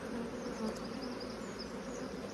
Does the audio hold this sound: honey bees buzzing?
yes